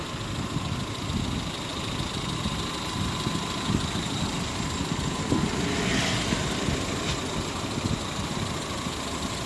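A Maruti Wagon R's engine idles steadily, a low continuous hum and rumble held at an even level throughout, with no voices.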